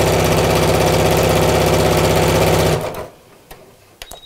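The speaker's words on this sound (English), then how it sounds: "You don't need a fancy sewing machine for this one either. I'm only using a straight stitch" A basic home sewing machine runs a straight stitch along a seam of a zipped coat hanger cover, a loud, fast, even mechanical whirr for nearly three seconds that stops abruptly, leaving faint clicks.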